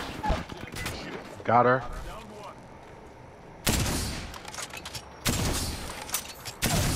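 Rapid gunfire from the Apex Legends video game erupts in two long bursts near the end, with players talking over the match before and between the shots.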